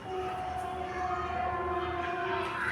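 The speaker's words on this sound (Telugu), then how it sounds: "ట్రైన్ సప్పుడు అంటారా?" A distant train passing under rainy skies, a sustained low rumble with steady tonal hum lines running through the whole stretch, fairly faint and even.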